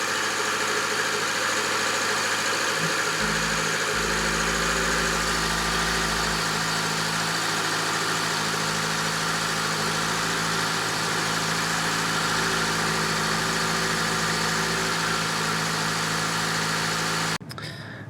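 Subaru Forester engine idling with a fault of excessive blow-by and oil in the coolant, a steady close mechanical hum with faint knocking that holds unbroken for about seventeen seconds before cutting off.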